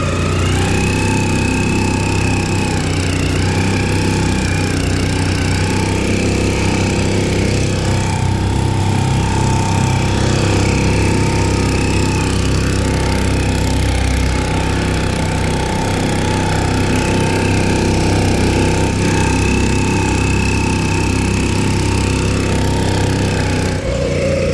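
A Hangkai 4-stroke 4hp outboard motor idles on the water, a steady, fairly loud, even engine drone with a constant low rumble that holds for the whole stretch without pause.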